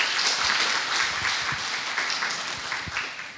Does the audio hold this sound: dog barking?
no